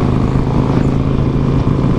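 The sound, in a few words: sports car engine running at about 3,000 RPM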